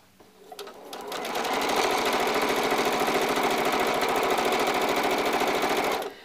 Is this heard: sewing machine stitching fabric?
yes